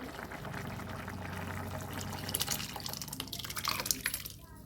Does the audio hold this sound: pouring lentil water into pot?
yes